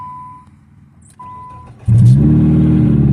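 Nissan SR20DE engine in a car, heard after two short electronic chime tones; it starts with a sudden loud rise and holds a steady, rough rev close by.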